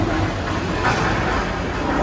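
Loud, steady rumble of a subway train moving along the tracks on the Universal Studios Hollywood backlot studio tour, a continuous roar filling the space with no voices.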